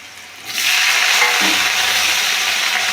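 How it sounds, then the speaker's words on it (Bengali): Potatoes drop into white oil and ghee in a wok and burst into a loud, steady sizzle that holds evenly to the end, with a soft stir partway through. "আমরা কড়াতে সাদা তেল আর ঘি দিয়ে নিয়েছি আমরা আলুটা ভাজতে দেবো"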